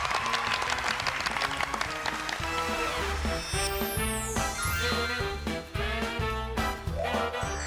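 A studio audience claps steadily on a Taiwanese-language family quiz show, welcoming a Taiwanese-language teacher, with lively music playing over the applause and no one speaking.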